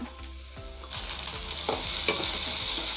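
Ginger and garlic fry with onions in a pan, a steady close sizzle with the hiss growing fuller partway through and soft stirring scrapes underneath.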